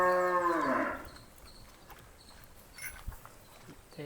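A single loud, drawn-out moo from a Hallikar calf opens the scene, followed by quiet rustling and faint background noise.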